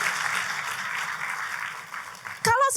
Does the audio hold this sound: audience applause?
yes